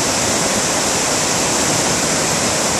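A river swollen into flood by a typhoon's overnight downpour, normally clear, roars as a steady, dense rush of turbulent water, loud and close, with no voices over it.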